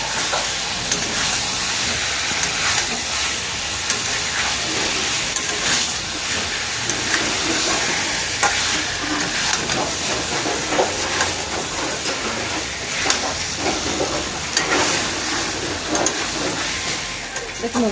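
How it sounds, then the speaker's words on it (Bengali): Boiled taro stir-fried with spices in a pan, a steady loud sizzling hiss with scattered crackles and stirring scrapes running throughout, with a voice talking over it. "এবার আমি কচুটা ভালো করে নাড়াচাড়া করে মশলার সাথে কষে নিচ্ছি"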